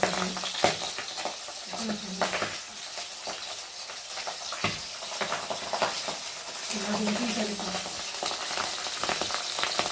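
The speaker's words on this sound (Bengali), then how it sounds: "দেখো সরবর সরবর করছে। দূর থেকে উল্টাচ্ছি তো ঠিকঠাক মতো উল্টাতে যাচ্ছি না" Pabda fish fries in hot oil with a continuous close, crackling sizzle, punctuated by scraping and turning sounds in the pan, no talking.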